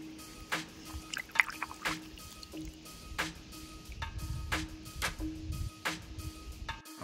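Water drips and splashes while a stone is washed by hand, irregular close wet plops, trickles and squishy sounds against a quiet background.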